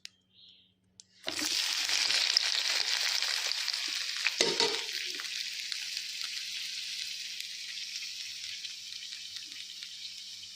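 Fresh mint (pudina) leaves hit a hot pan and burst into a loud, steady sizzle after a brief click, with a short clatter midway as the frying continues close up.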